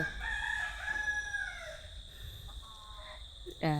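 A rooster crows a long, drawn-out call nearby, with other birds and faint farmyard noise in the background, then a brief loud sound at the end.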